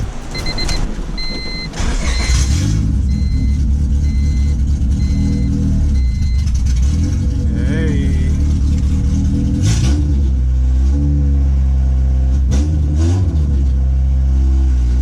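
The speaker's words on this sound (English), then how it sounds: "Let me start the car and let's see." A 2000 Honda Civic Si with a B-series engine, just back on the floor after transmission work, cranks and starts, then idles loudly up close with a few sharp revs, with no talking over it.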